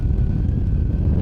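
A motorcycle engine running through a new slip-on exhaust muffler gives a low, steady rumble, close and continuous, with a bit of wind noise over it.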